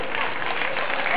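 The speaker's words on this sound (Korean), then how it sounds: "박수 한번 주시기 바랍니다" A crowd applauds at a Korea Day stage show featuring a Malaysian singer, dense and continuous clapping with a muffled, band-limited sound, loud and even throughout.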